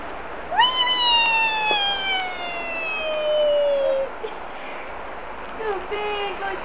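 A cat lets out one long, loud, drawn-out meow that slides downward in pitch, followed near the end by a shorter, fainter meow over a quiet background.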